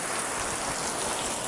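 Steady rain falls with gusting wind in a constant, close wash of broadband hiss, with no pauses and no voices.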